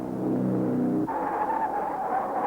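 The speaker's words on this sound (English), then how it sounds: "Trantillon duels with de Graffenried, and all through the pack, the battle of the Swiss Grand Prix is joined" Racing cars at the 1953 Swiss Grand Prix roar past on a road circuit, a loud engine note that shifts abruptly to a higher pitch as one car goes by, continuous and close.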